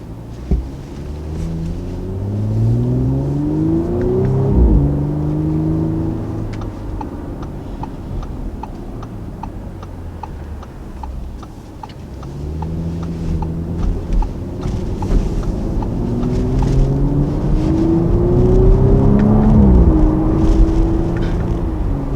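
A 2019 Audi RS5 Sportback engine revs up through the gears on the move, each rising pull ending in a downshift throttle blip, and two surges are heard about ten seconds apart, loud and close with a ticking clatter beneath.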